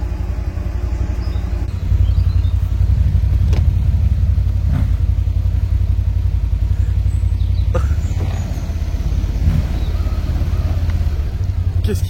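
A motorcycle engine, apparently a Honda Africa Twin, drones and revs loudly and steadily as the bike's rear slides out in a drift, with a few sharp clicks and knocks over the rumble.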